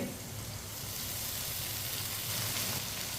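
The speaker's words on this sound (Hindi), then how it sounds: "टमाटर को भी इधर थोड़ा सा पका लेंगे 1 मिनट के लिए" Finely chopped tomatoes frying in a pan with chillies for aloo bhindi, giving a steady, close hissing sizzle that holds evenly throughout with no talk over it.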